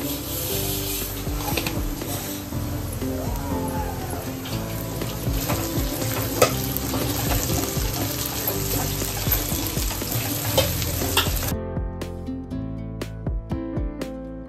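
Onion and spices frying in oil in a pan for a dry prawn dish, a dense continuous sizzle with scattered crackles and stirring clinks, close and steady before a brief cutoff near the end.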